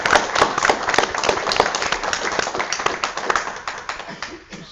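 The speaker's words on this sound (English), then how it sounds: "So if I can just ask everybody to give everybody a round of applause" An audience at an industry study event gives a round of applause, with dense, close clapping from many hands that is brisk at first and then gradually thins and fades.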